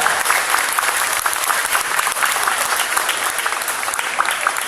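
An audience applauds after a speech, a dense, steady round of clapping that holds at an even level for several seconds with no talk over it.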